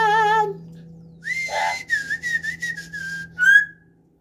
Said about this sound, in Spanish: Vos tienes que ir silbando.